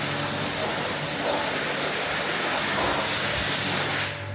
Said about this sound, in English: And that steamy, good old steam clean.